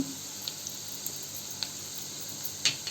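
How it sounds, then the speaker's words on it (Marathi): Onion with turmeric frying in a pan, a soft steady sizzle with a few small crackles and pops, fairly faint and without voices. "कांदा थोडा गोल्डन ब्राऊन होईपर्यंत परतवून घ्या"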